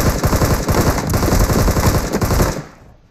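Rapid automatic gunfire in a video game, loud and dense bursts firing almost continuously before cutting off near the end.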